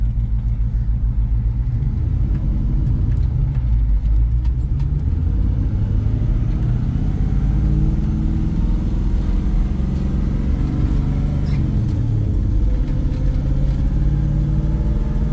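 A 1957 Chevrolet Bel Air cruises along bumpy back roads, its engine and road rumble heard from inside as a dense, steady, loud drone with faint rattles and thumps throughout.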